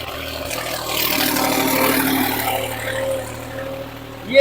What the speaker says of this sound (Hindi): इस तरीके से ट्रैक्टर चल रहा है।